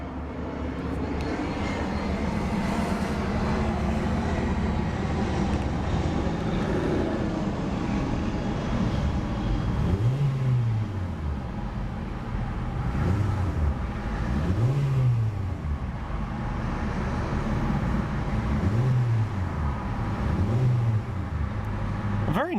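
A 2014 Hyundai Accent GLS 1.6-litre four-cylinder engine idling, then revved several times in short bursts through a single exhaust outlet, each rev rising and falling in pitch over a steady rumble.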